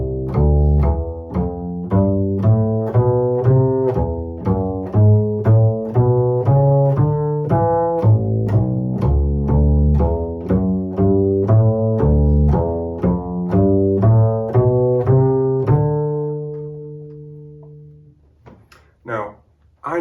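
Bass guitar playing Ionian, Mixolydian and Dorian chord scales as a steady line of plucked notes, clear and close, fading into a sustained final note before a few faint clicks at the end.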